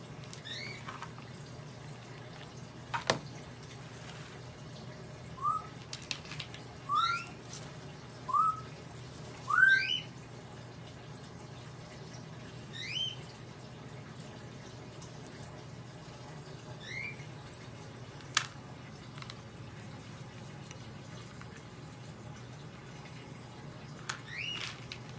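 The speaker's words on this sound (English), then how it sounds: "that noise you're listening to is my birds" Pet birds chirp and whistle indoors in the early morning, scattered bright calls in short bursts over a steady low hum, some near and some faint, with no talking.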